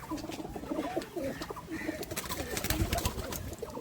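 Pigeons of a high-flying Andhra breed coo in low, rolling calls close by, with wing flaps and light clattering mixed in as the birds scatter around.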